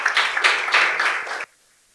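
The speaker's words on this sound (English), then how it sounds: "Keep clapping, please" Audience applause after a software workshop at a developer conference, dense steady clapping from a crowd for about a second and a half that stops abruptly, leaving near silence.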